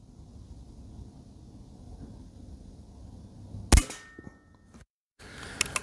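A single sharp air rifle shot cracks out at 30 yards after a quiet stretch, followed by a short clatter and low background noise.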